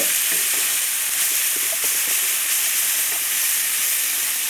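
Ridge gourd (peechinga) sautés with salt in a hot pan, making a loud, continuous, close sizzle with bright steamy hiss and scattered soft stirring clicks.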